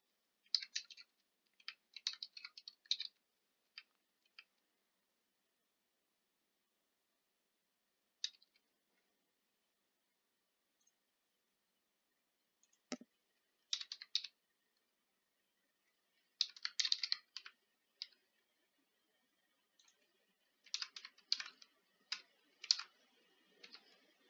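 Billing details are typed on a computer keyboard in short, quiet bursts of clicking keystrokes separated by long pauses, close and alone.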